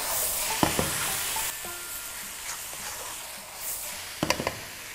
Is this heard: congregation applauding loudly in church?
no